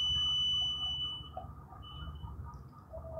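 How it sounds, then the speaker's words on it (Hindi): A digital multimeter's continuity buzzer sounds a steady, fairly loud high-pitched electronic beep for about a second and a half, then fades into quiet room noise with only faint short blips. "ये बजर की आवाज़ आपको सुनाई आ रही है"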